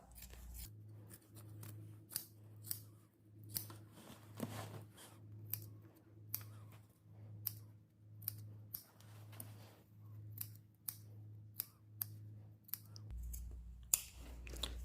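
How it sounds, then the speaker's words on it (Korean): Scissors snip a denim seam allowance while a jean jacket is being sewn, a steady series of crisp, evenly spaced cuts close by over a low background hum, with no talking. "시접은 1cm로 자르시면 돼요."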